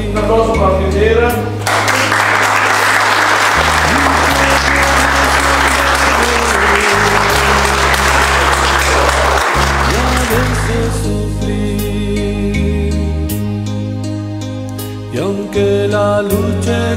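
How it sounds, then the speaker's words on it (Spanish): A crowd claps loudly and continuously at a quinceañera celebration over sustained music, the clapping thinning out after about eleven seconds while the music carries on. "Un aplauso para quien quiera."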